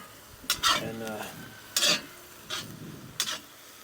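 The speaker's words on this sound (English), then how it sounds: "Let me stir this one time" Food stirred in a pot over an outdoor fire: four separate scraping strokes come close and fairly loud, at roughly 0.6, 1.9, 2.6 and 3.3 seconds, each with a brief metallic rasp, with quiet gaps between them.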